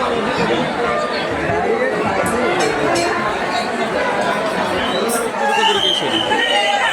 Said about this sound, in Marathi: अशी काय गर्दी आहे